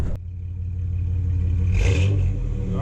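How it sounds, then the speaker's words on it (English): A 1994 Chevy Cheyenne C/1500 pickup with a 4.3 engine and FlowMaster Series 40 muffler rumbles at idle nearby, then gives a brief rev near the end before settling back to a deep steady burble. "It definitely sounds like a V8 now."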